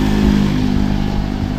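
A motorcycle engine rumbles close by with a steady, throaty drone, loud throughout the short moment with no voices.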